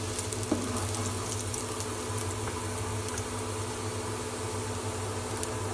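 Chopped garlic sautéing in a little oil for a shrimp ramen dish gives a steady, continuous sizzle and crackle at close range, with no talking.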